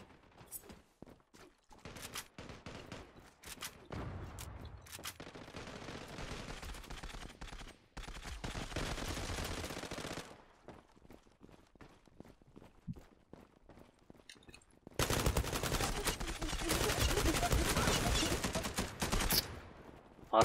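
Gunfire in the Zula video game comes in bursts of rapid automatic shots, some single cracks and long sustained volleys, mixed with running footsteps and brief quiet gaps.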